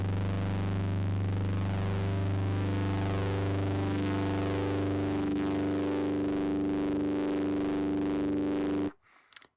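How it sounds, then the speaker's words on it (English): A phase distortion oscillator patch in Drambo, tuned up an octave, produces a thick unison synth tone: a steady, buzzy sustained drone with dense harmonics that holds for about nine seconds, then cuts off abruptly. "we're almost getting kind of like some unison sort of sounds"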